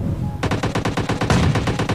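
Rapid automatic gunfire from the video game PUBG Lite rattles out in a fast, evenly spaced burst of loud shots lasting about a second and a half.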